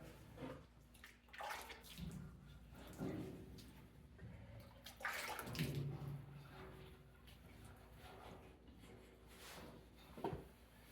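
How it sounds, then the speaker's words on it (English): Water from a bucket is thrown onto the oxidized paint of an old bumpside Ford Highboy pickup, giving several close splashes and sloshes at irregular intervals, with quiet handling noise between them. "I'm just going to start grabbing some water and just throwing it up here, you know, getting it nice and wet."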